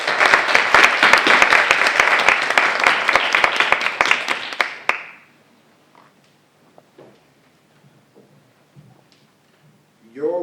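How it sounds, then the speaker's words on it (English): An audience at a school spelling bee claps loudly with sharp, distinct hand slaps for around five seconds, then stops abruptly into a quiet room with a few faint knocks and rustles. "Round of applause."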